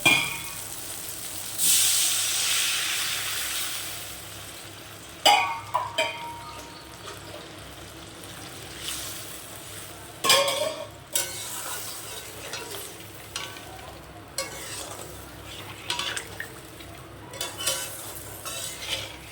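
Water poured into a pan of fried spice paste for a pabda fish curry, starting with a loud hissing burst of sizzle that settles into softer bubbling, with repeated utensil scrapes and stirring clinks.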